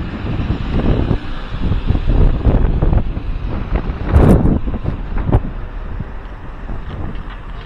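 Wind blowing outdoors at Maspalomas, San Fernando, Gran Canaria after a brief rain, roaring and buffeting loudly against the microphone in uneven gusts, continuous through the whole stretch with no speech.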